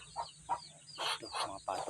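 Farm turkeys calling in short, throaty bursts, a few soft calls at first, then louder rapid gobbling clusters, fairly close and alone without talk.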